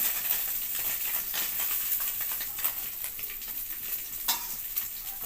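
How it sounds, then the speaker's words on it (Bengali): Tilapia fish frying in a wok with a little oil, giving a steady close crackling sizzle throughout with brief louder spatters and occasional stirring scrapes. "খুব সুন্দর গুলো ভাজা হয়ে গেছে"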